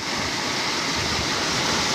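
Floodwater rushing at high speed through a flooded village and over a road: a loud, steady, close broadband roar of churning water with no pauses.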